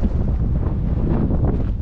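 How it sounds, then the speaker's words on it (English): Steady wind gusting across an open cliff-top trail at Mesa Verde, buffeting the microphone with a continuous low roar that rises and falls slightly, with no speech. "Probably hear that wind."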